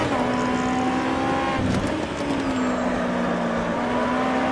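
An Aussie Racing Car races at Winton in the Automobilista video game. The engine drones steadily, dips briefly as if lifting off, then rises again and holds loud and close.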